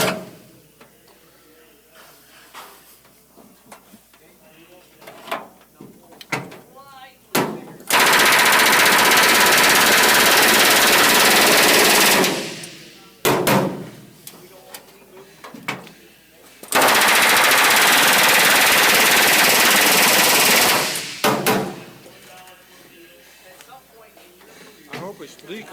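A drill bores through aircraft metal for rivets in two long, loud, steady runs of several seconds each, separated by quieter workshop clatter and talk.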